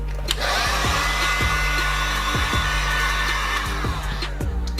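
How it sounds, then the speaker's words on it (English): A heat gun blows a steady, loud whoosh of hot air over customised Vans shoes, with a constant motor hum, close and unbroken. "speed up the process 10 times faster by hitting it with the heat gun"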